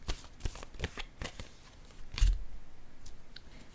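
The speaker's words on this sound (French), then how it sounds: "je vais déposer une autre carte pour ces deux-là" Tarot cards shuffled and laid down one by one, a run of crisp separate flicks and slaps followed by a softer riffle, close up with no talking.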